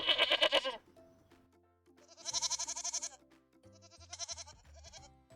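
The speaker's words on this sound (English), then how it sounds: "Goat" A goat bleats in three wavering, quavering calls, the first short and bright, then two longer ones after a pause, heard close and clear over faint background music.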